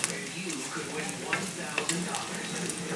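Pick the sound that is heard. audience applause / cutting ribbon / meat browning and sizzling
meat browning and sizzling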